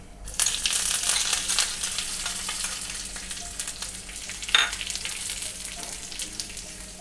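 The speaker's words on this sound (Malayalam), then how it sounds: "കടുക് പൊട്ടിയതിന് ശേഷം ഒരു ചെറിയ കഷ്ണം ചുവന്നുള്ളി അരിഞ്ഞതും 2 വറ്റൽമുളകും അല്പം കറിവേപ്പിലയും കൊണ്ടൊന്ന് മൂപ്പിച്ച് ഇതിലേക്ക് ഒഴിക്കുക." Mustard seeds, chopped shallots, dried red chillies and curry leaves sizzle and crackle in hot oil, a steady close frying hiss with a brief louder burst of popping midway, no talking.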